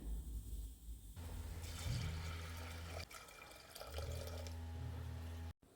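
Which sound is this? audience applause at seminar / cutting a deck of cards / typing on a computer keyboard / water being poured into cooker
water being poured into cooker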